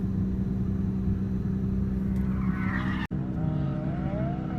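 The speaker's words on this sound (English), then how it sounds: "So we just took it out for a lap. It drifts okay." A hot-running car drifting through a track lap, its engine droning steadily up close while tires squeal and skid, with a brief cut midway before the engine note and rising tire squeal continue.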